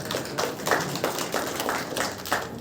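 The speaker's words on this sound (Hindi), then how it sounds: "जोरदार तालियों से स्वागत।" An audience at a cooperative society's annual event claps steadily to welcome a speaker, a sustained crowd applause of many hands without talk.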